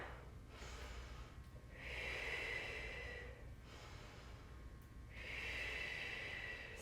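Slow, deep breathing during a prenatal yoga session: two long, airy nasal inhales or exhales a few seconds apart, faint and close, over a quiet room hum.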